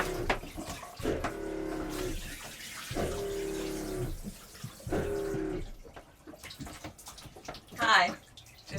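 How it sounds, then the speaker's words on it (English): A shower runs aboard a sailboat while an onboard water pump hums in steady, repeating cycles of several seconds each. The sound is moderately close and fairly quiet, with running water hissing underneath. "I can hear the pump, and maybe Karen's taking a shower"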